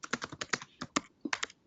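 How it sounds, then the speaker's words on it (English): Computer keyboard keys clatter in quick irregular bursts of taps, close and fairly quiet, with short pauses between runs of typing. "I can hear you typing"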